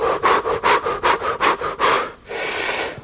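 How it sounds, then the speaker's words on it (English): Breath of fire yoga breathing: roughly eight quick, forceful nasal sniffs in an even rhythm, then a steady, longer airy exhale, close and clear with no talk. "It starts with a big inhalation, and then there's like some very rapid panting."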